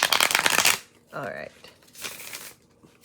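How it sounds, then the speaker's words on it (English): Tarot cards are given an old-school shuffle, a dense burst of riffling and flicking for the first moment, then quieter card handling with a brief voice in between. "let me just do an old school shuffle over here"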